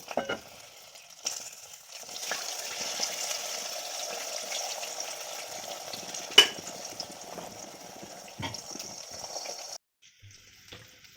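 Eggs frying in a pan in a home kitchen, a faint, soft sizzle that stays steady for most of the clip, broken by occasional light clinks and one sharp tap before it drops away.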